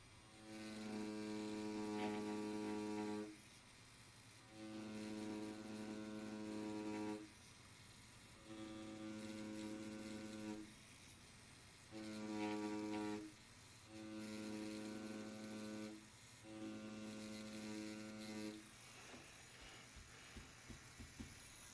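An Xnet Vane tattoo machine outlines on fake skin with a steady electric buzz in repeated bursts of about two seconds, separated by short pauses, close and fairly quiet.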